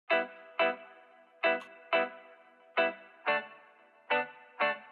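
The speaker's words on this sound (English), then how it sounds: "I did this kind of chicken scratch, almost like reggae upstroke thing here" Muted chicken-scratch guitar upstrokes in a reggae style, eight crisp percussive chord chops spaced evenly on the offbeat, close and dry with a clear rhythmic pattern.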